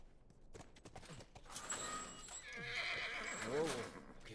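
A horse whinnies loudly in a long rising and falling neigh near the end, with hoof clops and movement earlier and people talking around it.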